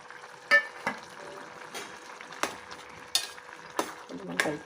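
Tomatoes going into a pan for an egg and raw prawn curry, with soft frying hiss and several sharp spoon knocks and scrapes against the pan at irregular intervals, close.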